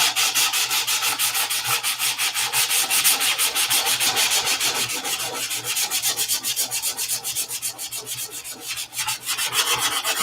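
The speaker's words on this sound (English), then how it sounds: "Let us sand it. Let us sand it out." Steady back-and-forth sanding with 320-grit sandpaper over a doped, painted surface at a workbench, a continuous close rhythmic rasping that runs the whole time with no talking.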